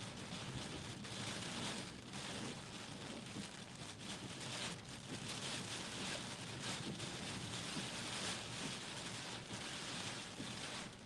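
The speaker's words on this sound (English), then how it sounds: "There is a ton of rain with this system." Heavy rain from Hurricane Milton pours down steadily in a dense, roaring wash with gusting wind, continuous and loud throughout with no voices.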